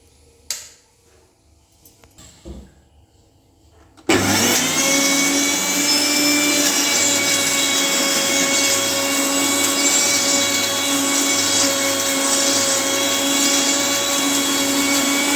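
A mixer grinder blends tomato chutney with a loud, steady whirring motor that starts suddenly after a few faint knocks and runs without pause.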